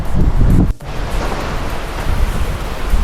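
Strong wind at a beachside resort by the sea buffets the microphone in a loud, continuous rush, with one brief dip before the roar resumes.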